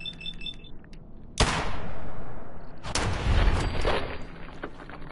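A gunshot in Fallout 4 cracks loudly at about 1.4 seconds over quiet game ambience and rings out in a long decaying tail, followed by a second heavy, rumbling blast; no one speaks.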